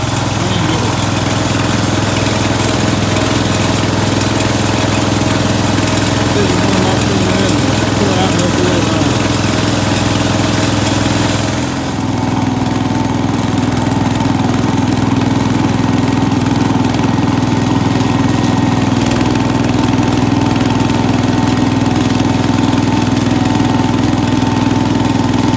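A small engine of a 1967 Cub Cadet 125 garden tractor idles loudly and steadily nearby with a constant low rumble, briefly dipping in pitch partway through before settling back.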